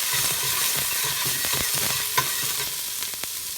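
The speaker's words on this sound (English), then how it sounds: "I'm going to add 2 or 3 tablespoons of olive oil and in a hot pan and put in my onions." Onions sizzle in olive oil in a hot pan, a steady frying hiss with scattered crackles and pops, plus a few soft stirring clinks, with no talking.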